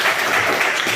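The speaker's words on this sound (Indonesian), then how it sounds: "Tepuk tangan buat kalian semua." Children in an arts and culture classroom break into brief, dense clapping that fills the moment with steady applause and no voices.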